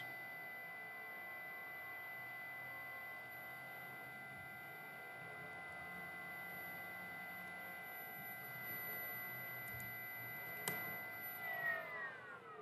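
The brushless DC flywheel motor of a Nerf blaster spins at about 3,200 RPM, a steady, sustained high whine with layered tonal hum that holds evenly and then winds down slightly near the end.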